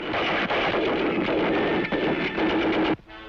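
Small arms gunfire rattles in rapid, dense bursts at a 1951 military academy, loud, fairly close bangs overlapping into a continuous clatter before stopping abruptly near the end.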